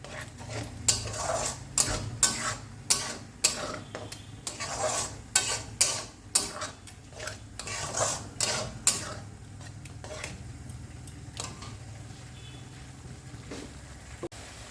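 Spice paste stirred into a pan for palak paneer, a run of rapid, sharp metal spatula scrapes and knocks in uneven rhythm over a soft sizzle, thinning out toward the end.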